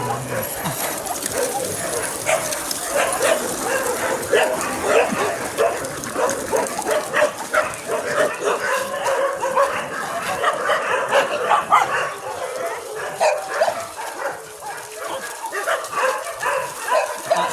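Many dogs bark and yip at a dog sanctuary in Chonburi, Thailand, a dense chorus of overlapping barks carrying on steadily at mid distance.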